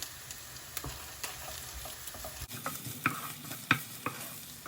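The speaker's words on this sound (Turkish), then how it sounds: "Şimdi hemen üzerine salça ekleyeceğim. Şimdi bunları böyle kavuracağım." Onions and tomato paste fry in oil and are stirred in a pan: a steady sizzle under repeated scraping and clicking of the spoon, with stronger stirring strokes in the second half.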